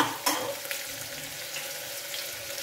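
Pumpkin sabzi roasting in a pan on a medium flame until golden brown, an even moderate sizzle with a brief stirring clatter near the start, no speech.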